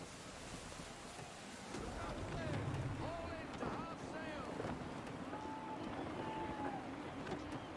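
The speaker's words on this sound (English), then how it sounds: "Gusty winds can be difficult to manage." Gusty wind buffets a sailing ship at sea in Assassin's Creed III, a steady rushing blow over splashing waves, with crew voices calling out across the deck.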